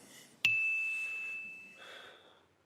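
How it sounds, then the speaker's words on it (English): A bell in a council meeting chamber sounds once with a sharp strike and a clear ringing tone that fades over about a second in a quiet room. "I heard the bell."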